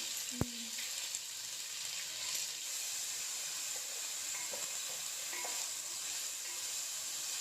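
Quiet, even sizzling of tempering spices, garlic and ginger frying in oil for a tamarind bottle gourd curry, a soft continuous hiss with one sharp clink early on and faint stirring sounds.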